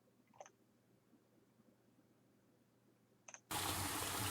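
Water turned on in a Second Life virtual bathroom: after a quiet stretch with a couple of faint clicks, a loud steady gush of running water bursts in suddenly and keeps going.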